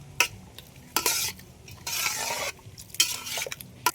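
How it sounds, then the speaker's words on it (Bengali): A ladle mixes panta bhat ingredients together in a pot with close scraping strokes and occasional sharp metallic clinks, moving in an uneven rhythm. "এবার ভালো করে হাতাতে সব একসাথে এইভাবে মিশিয়ে নেব"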